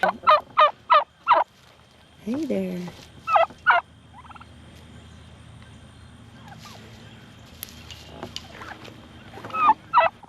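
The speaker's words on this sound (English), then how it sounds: "We're over here at the turkey pen." Several loud turkey gobbles from a turkey pen, a rapid burst of four or five at the start and a couple more mid-way and near the end, with a brief spoken greeting.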